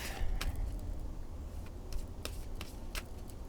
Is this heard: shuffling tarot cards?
yes